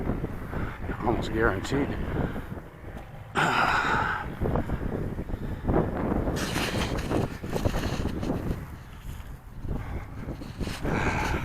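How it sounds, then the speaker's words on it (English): Strong gusty wind buffets the microphone at an RC plane flying field before the maiden flight of a FlyZone Cessna Corvalis 350 1450mm model, roaring in loud surges while someone briefly speaks. "the wind is really picking up"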